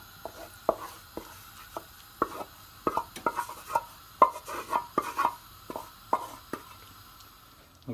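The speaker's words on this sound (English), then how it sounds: "add the spice base back into the pulses, and then give them a thorough mixing" Spoon stirring spice base into cooked pulses for haleem, a lamb and pulse stew: an irregular series of sharp scraping clacks and wet knocks against the pot, close and fairly quiet, no voices.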